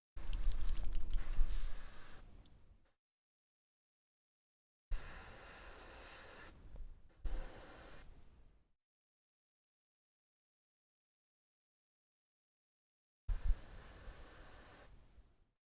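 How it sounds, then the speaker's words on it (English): An airbrush or spray can hisses onto a painted miniature model in several bursts of a few seconds each, separated by silence, close and steady. "I'm going to spray it up into the shadows even though I know I'm going to hit the underside with a different color"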